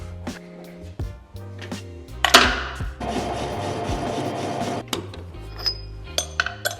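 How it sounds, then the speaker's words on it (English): A lathe takes a light skim cut on a metal part for a jet tank racer build, giving a steady broadband scraping hiss for about two seconds. Clicks and clinks of handling come before and after the cut. "let's give it a light skim, because that'd be easier than trying to make it look round"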